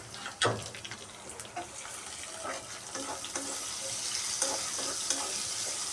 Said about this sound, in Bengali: রসুনটা একটু ভাজা ভাজা করে নেব। একটু ভাজি হয়ে গেলে সাথে পেঁয়াজ দিয়ে দিলাম।